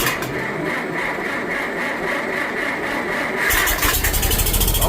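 A snow plow's engine is cranked with the choke on at half throttle, a long rough churning crank that catches and bursts into a loud, throbbing idle in the last second and a half.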